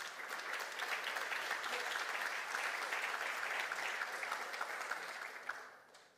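Conference audience applauding at the close of a keynote at a summit, sustained even clapping from a large hall that stays level and then fades out near the end.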